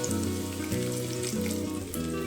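Small onions with garlic and ginger sautéing in hot oil in a pan, a continuous close sizzle and crackle, loud and steady with no voices.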